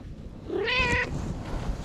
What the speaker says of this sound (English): Yeah, such a wild kitty.